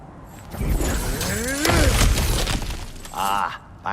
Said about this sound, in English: Break containers to find valuables.